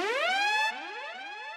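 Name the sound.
siren sound effect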